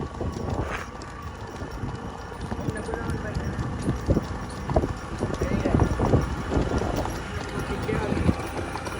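Steady clip-clop of a mare's hooves on a hard surface, with wind and background noise throughout.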